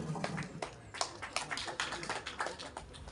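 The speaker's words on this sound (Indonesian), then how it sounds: "Kita berikan tepuk tangan yang meriah." Applause for candidates at a press event after registering at the election commission (KPU): a faint, brief patter of scattered clapping from a small group, with no voices.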